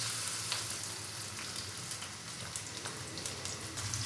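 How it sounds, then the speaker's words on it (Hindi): Finely chopped onion fries in lightly heated oil for a chicken karahi, making a soft, steady sizzle with scattered crackles and pops throughout. "ऑयल हल्का सा गर्म हो चुका है। अभी मैं इसके अंदर प्याज डालूंगा"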